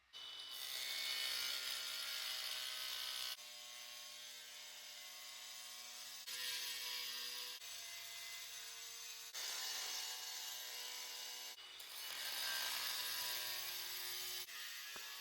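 A power saw grinds through a large porcelain tile in several long passes, each steady high-pitched cutting whine separated by brief changes in tone.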